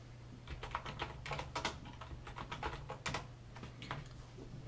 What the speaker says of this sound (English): Just put a password, anything.